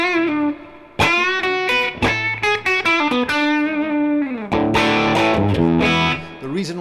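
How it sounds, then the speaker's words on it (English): A Fender Stratocaster played through a kit-built Princeton Reverb amp cranked to 9 gives a slightly hairy, overdriven tone, with ringing chords and single-note phrases played close and loud, with no talking. "I'm playing this Strat today, and I decided to go into my Princeton, the Princeton reverb that I built from a kit."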